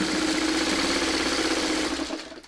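Sewing machine stitching quilt sashing runs in a steady, continuous close-up whir, fading slightly at the end.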